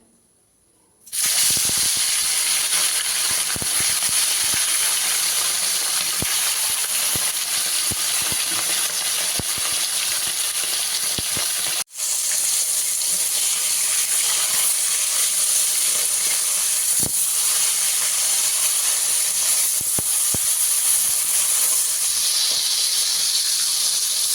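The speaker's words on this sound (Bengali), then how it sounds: "কড়াইতে সর্ষের তেল দিয়েছি, তেলটা গরম হয়ে গেছে। মাছগুলো ভেজে নেব।" Bhola fish pieces hit hot mustard oil in a wok, setting off a loud, sudden, sustained hissing sizzle that runs on steadily with small pops and one brief break.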